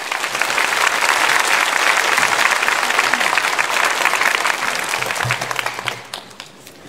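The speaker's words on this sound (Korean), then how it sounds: "목사님 나오실 때 박수로 환영하겠습니다" A church congregation at a Sunday worship service claps to welcome the pastor. The dense, loud applause holds steady for several seconds, then thins and fades out near the end.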